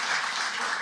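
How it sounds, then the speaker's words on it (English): A conference audience applauds, a steady wash of many hands clapping at even volume throughout, with no voices over it. "a quem peço uma salva de palmas"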